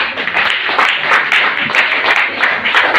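A congregation claps for Jesus in church worship, a dense, fairly loud patter of many hands held steadily throughout with slight pulsing rhythm and no clear talk.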